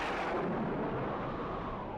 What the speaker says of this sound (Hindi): अल्लाह, कितना जबरदस्त तूफान है।